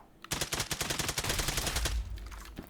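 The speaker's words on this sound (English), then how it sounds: "So I'm just going to fire until he's dead." Rapid automatic gunfire in a VR shooting game, a sustained burst of close, loud shots at a steady rhythm lasting well over a second before cutting off, with no talk over it.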